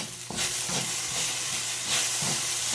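Okra stir-frying in a pot gives a steady, close hiss and sizzle, lightly salted, with a few soft stirring scrapes and no voices.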